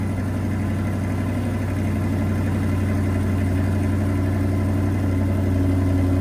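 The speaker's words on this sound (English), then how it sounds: "The exhaust note is really beautiful." A C8 Corvette's 6.2-liter naturally aspirated V8 idles with a steady low rumble and deep exhaust burble, close and constant, without a clear rev.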